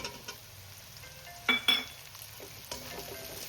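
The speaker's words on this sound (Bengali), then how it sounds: "আমি এটা একটু হালকা ভেজে নেব দেখো পেঁয়াজ আর রসুনটা কিন্তু হালকা ভাজা হয়ে এসছে" Onion and garlic lightly frying in a pan for a capsicum curry, a steady soft sizzle with a few sharper clinks of a utensil against the pan partway through.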